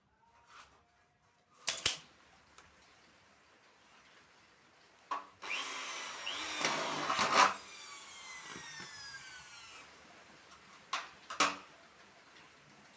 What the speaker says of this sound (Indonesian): dikunci pakai rivet, jadi tidak pakai baut tapi pakai rivet